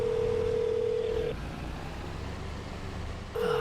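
Telephone dial tone during a call in the farming game Farming Simulator 22, a steady electronic tone that stops, leaves a stretch of low engine-like hum, then returns near the end.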